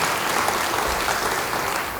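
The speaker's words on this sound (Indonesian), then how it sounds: "Yang percaya beri tepuk tangan bagi dia." Church congregation applauding during an Indonesian sermon, a steady dense wash of many hands clapping at once, loud and even throughout with no talking.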